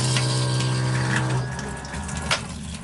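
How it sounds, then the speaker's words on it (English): A 12-volt water pump motor drives a camper van sink, giving a loud steady electric hum with running water that cuts off partway, leaving a quieter trickle and a small clunk. "It runs on a 12-volt motor that comes off the solar panel."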